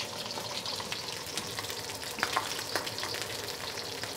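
A whole red snapper fries in oil with ginger root, a soft steady crackle and sputter running throughout, with a few sharper pops near the middle.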